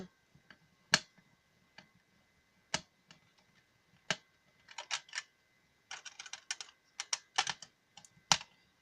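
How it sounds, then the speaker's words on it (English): Screws being backed out of a Nerf Stryfe blaster with a screwdriver, a series of sharp close clicks and ticks, sparse at first and then clustering into quick bursts of small plastic-and-metal taps. "You need a bigger screwdriver for these screws up here."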